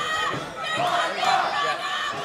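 An MMA crowd at a women's fight rumbles and shouts in a sustained, mid-level roar of many voices, swelling slightly across the short stretch.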